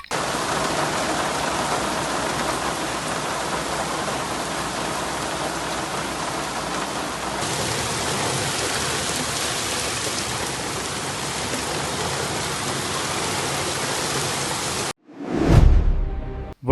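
Steady rain pours down outdoors during the monsoon in Gujarat, a dense, even hiss that stays loud and constant for a long stretch, then cuts off abruptly into a brief low rumble at the end.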